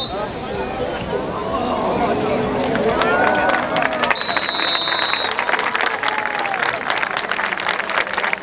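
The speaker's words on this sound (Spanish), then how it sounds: "Más fuerte el aplauso para estos grandiosos jinetes" A crowd applauds loudly and steadily for Carabineros riders performing a mounted display, with hoofbeats and crowd noise mixed in and voices audible under the clapping.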